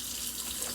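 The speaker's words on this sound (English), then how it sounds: "I'm going to put hot water in there." Hot water pours steadily from a kitchen tap in a continuous, close hiss while stuffing is being prepared.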